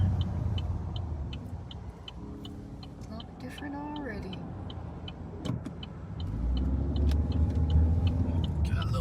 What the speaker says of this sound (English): We're going to navigate through this traffic.